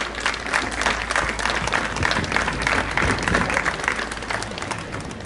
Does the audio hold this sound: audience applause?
yes